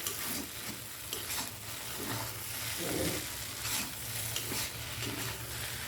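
Noodles tossed with tomato sauce in a hot pan, a spoon scraping and turning them continuously over a low sizzle, with rhythmic stirring strokes close up and no voices.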